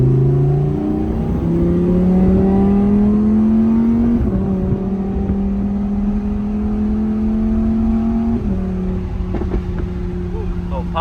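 A 2023 Lamborghini Huracan Tecnica on Novitec lowering springs accelerates past in a loud, sustained flyby, its engine note climbing steadily and breaking through two clear upshifts.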